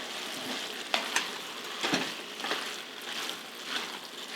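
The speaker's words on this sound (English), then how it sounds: "we have let our mixture saute for about 10 to 15 minutes in the Dutch oven or large skillet" Taco stuffed pepper casserole mixture sautes in a Dutch oven, a soft continuous sizzle and crackle with a few sharper pops and stirring scrapes, fairly quiet and without talking.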